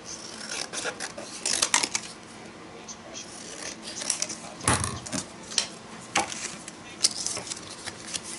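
Scissors cutting paper for a cover, heard as a series of close, crisp snipping and rasping strokes in irregular bursts, with small handling noises between cuts.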